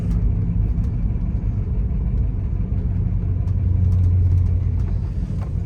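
A 1965 Plymouth Belvedere II with a three-speed Torqueflite automatic and a carburetor needing a new accelerator pump, its engine running in a steady low rumble that swells slightly partway through, heard from close by without voices.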